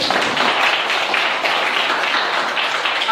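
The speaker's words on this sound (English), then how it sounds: "give a round of applause for this girl" An audience gives a round of applause for a girl who won a silver medal: a continuous wash of many hands clapping, moderately loud and steady from start to end, without speech.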